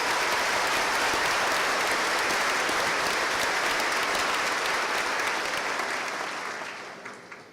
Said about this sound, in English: Let's give a round of applause for them as well,